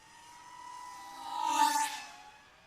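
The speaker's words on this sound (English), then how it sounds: "Let's make a high-speed pass." A small FPV model airplane makes a high-speed pass, its motor whine rising to a peak and falling away as it flies by, heard alone and fairly faint.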